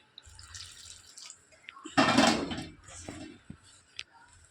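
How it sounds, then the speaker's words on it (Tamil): Water poured into a pan while making idiyappam, a short splashing pour rising in the middle between a few faint kitchen clinks and drips, fairly close and quiet. "அதையும் தண்ணி ஊற்றுறேன்"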